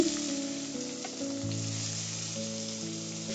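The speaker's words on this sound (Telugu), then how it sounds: "మనం ముందుగా కట్ చేసి పెట్టుకున్న పచ్చిమిర్చి, ఉల్లిపాయలు, టమాటాలు ఇవి కూడా మనం ఫ్రై చేసుకోవాలి గోల్డెన్ కలర్ వచ్చేంత వరకు." Chopped green chillies, onions and tomatoes frying in a pan for a gongura country chicken curry, a continuous even sizzle close by, with no one talking.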